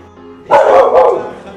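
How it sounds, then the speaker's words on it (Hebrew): A dog barks close and loud, two quick barks in a row over a faint, steady background. "אוף, הכלב הזה, הוא לא מבין שהנביחות שלו לא מזיזות לי את הזנב"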